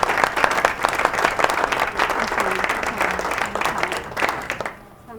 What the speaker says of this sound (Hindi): तालियां भाई प्लीज़।